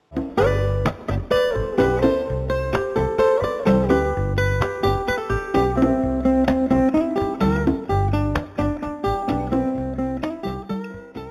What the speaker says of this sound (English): At the end of the period, recess, and lunch, the bell sounds like this.